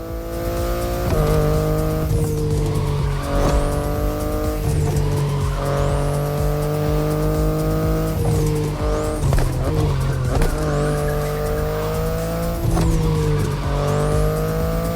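A BMW i8 hybrid sports car drives hard and loud, its engine note rising and falling through repeated revs and gear changes, with tyre squeal and whooshing passes, no voices.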